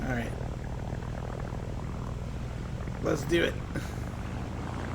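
Engine of a flying boat machine in a video game, a steady droning hum running through the whole stretch under people talking.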